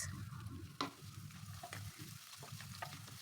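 Sliced garlic frying in about five tablespoons of hot oil in a pan, a continuous close sizzle with occasional sharper stirring clicks and scrapes.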